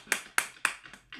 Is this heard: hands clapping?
yes